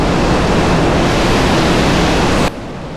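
Abbey Falls in Coorg, Karnataka, pours down as a loud, continuous wash of rushing water that suddenly drops to a softer roar near the end.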